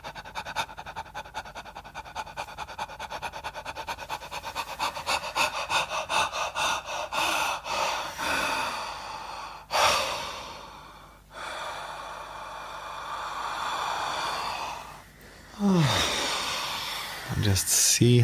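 Rapid, shallow breathing during a breathwork exercise, with quick rhythmic in-and-out breaths building steadily, then several longer gasping inhales and exhales, close and clear.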